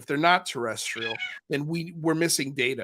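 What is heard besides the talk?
cat meowing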